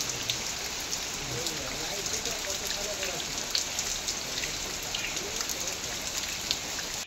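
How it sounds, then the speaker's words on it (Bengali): Steady rain falls outdoors, a dense even patter of drops hitting surfaces that continues without a break, with faint voices in the background. "বৃষ্টি দেখতে কেমন লাগছে বন্ধুরা?"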